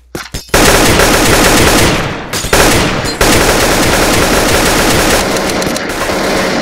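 Sustained automatic gunfire in a prison-break video game, loud and continuous rapid bursts with brief pauses, no talking.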